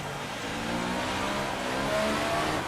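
A Formula 1 race car in a video game pulls out of the pits on wet track with slick tyres, its engine revving steadily and loudly throughout with a rising, sustained mid-pitched roar.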